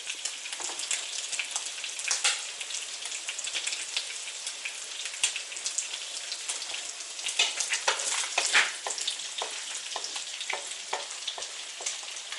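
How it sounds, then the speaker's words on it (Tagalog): Garlic fries in a pan for pancit noodles, a steady close crackling sizzle with small popping spatters throughout. "Let the garlic turn a little bit brownish."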